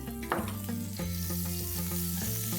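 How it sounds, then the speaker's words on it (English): Oil and butter sizzle in a heated grill pan for paneer, a steady close-up hiss with low tonal hum underneath and a brief louder crackle near the start, no voices. "I've heated a grill pan here and I'm going to add a tablespoon of oil, a tablespoon of butter."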